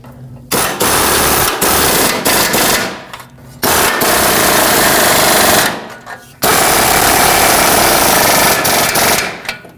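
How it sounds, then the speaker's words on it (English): Impact wrench bolting a GMC Yukon exhaust manifold onto the exhaust pipe, loud and close: three long rattling bursts of hammering, each several seconds, separated by brief pauses. "Now let's bolt the manifold onto the pipe."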